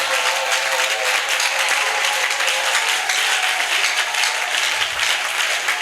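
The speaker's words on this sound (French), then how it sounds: "J'ai dit d'acclamer Jésus." A church congregation bursts into sustained, loud applause to acclaim Jesus, a dense, unbroken wash of many hands clapping together that fills the room from start to finish.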